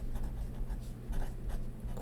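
Sailor Pro Gear Quasar fountain pen with a fine nib writing on paper, a steady close scratchy rustle of nib strokes with short pauses between marks, continuous and fairly loud.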